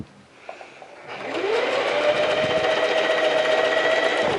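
A sewing machine runs a straight side seam on a bodice, starting after a few faint handling taps and then humming at a steady, close, even whir to the end.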